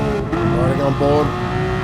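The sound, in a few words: Mercedes AMG GT3 race car engine from racing video game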